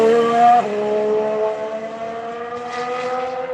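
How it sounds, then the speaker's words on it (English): A Ferrari race car passes on track, its high engine note sweeping by close and loud, then dropping in pitch as it fades away. "Here comes the Ferrari."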